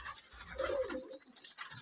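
Giribaz pigeons in a pigeon house on a Rajshahi farm give brief, faint throaty coos, heard quietly over light background rustle.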